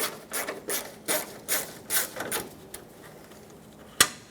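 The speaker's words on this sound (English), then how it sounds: "take a Phillips head screwdriver, remove this screw." Phillips head screwdriver backing out a screw near the grille and corner light of a 1995-2004 Toyota Tacoma, heard as a series of short scraping, rasping turns in rhythmic bursts, followed by a single sharp click as the screw comes free.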